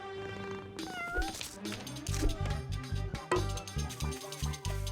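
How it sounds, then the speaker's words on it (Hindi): A mischievous pet cat named Falafel meows in a cartoon scene, several drawn-out, rising meows over busy background music, fairly close and clear. "बहुत शरारती बिल्ली हो"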